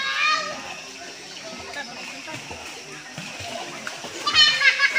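Many people bathe and splash in cold, clear water inside a long cave, with scattered splashes and sloshing under children's voices and talk that echo through the space.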